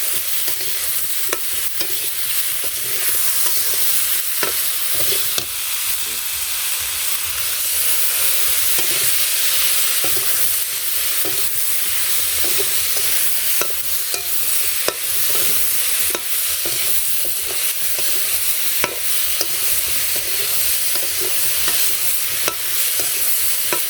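Spices, green chilies, salt and turmeric stir-fry with vegetables in a pan during simple village cooking, a loud continuous sizzle and hiss with frequent clicking scrapes of the spoon against the pan, no voices.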